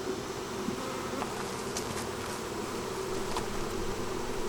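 Honey bees in a dense, steady buzz around a hive, a continuous close hum swelling slightly with occasional louder passes of single bees near the listener.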